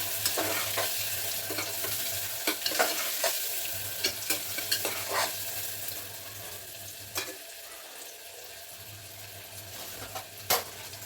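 Onions and green chillies frying in hot oil: a steady, fairly quiet sizzle with repeated scraping clicks of stirring against the pan, no talk.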